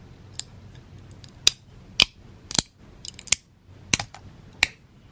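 Freshly finished 3D prints are peeled off the printer bed in a series of sharp, crisp snapping cracks, about eight distinct pops spread over a few seconds in an otherwise quiet room.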